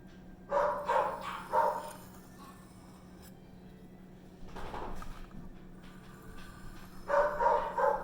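Dogs bark in short bursts of several sharp woofs, with a quiet pause between groups, moderately close over a low steady hum.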